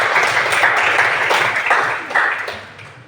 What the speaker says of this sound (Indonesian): Baik, kita berikan tepuk tangan.